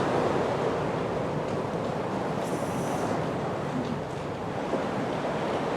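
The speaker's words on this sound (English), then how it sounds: "Wait until there's a bit of a wave coming through so I can show the water" Sea waves rolling onto a shore make a steady, loud, broadband wash with wind noise over the microphone, continuous throughout with no talking.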